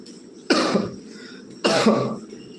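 Two distinct coughs a little over a second apart, close and fairly loud, from a person feeling unwell, with quiet background between them.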